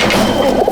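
Male Chotial Madrasi pigeons kept singly in a loft give a brief, close, throaty coo, a short burst of soft warbling.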